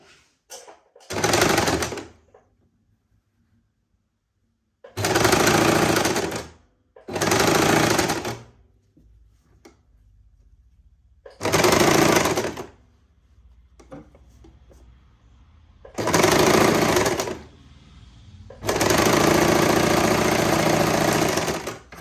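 A sewing machine stitches a sleeve in six separate bursts of loud, steady running, each one to three seconds long, with quiet pauses and small handling noises between them. The last burst is the longest.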